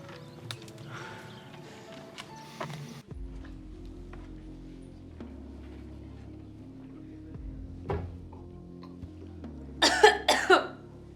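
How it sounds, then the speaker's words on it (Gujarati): A few sharp coughs near the end, preceded by a quiet room with faint clatter and a couple of brief knocks. "ઉધરસ આવી મને"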